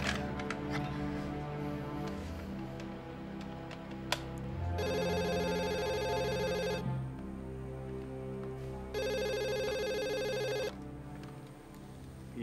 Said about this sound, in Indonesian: Aku coba telepon ke rumahnya deh.